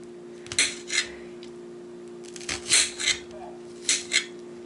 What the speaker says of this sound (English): That feels like I cut all the way through the onion.